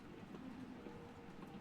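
Steady low rumble of a train rolling along rails, a continuous muffled drone heard from inside the carriage, faint and even with no distinct clacks standing out.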